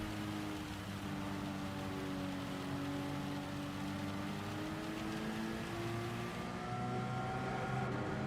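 Rain in the racing game Gran Turismo 7, a steady wet wash of spray under the droning, shifting engine note of a Porsche Cayman lapping the High Speed Ring, constant and close throughout.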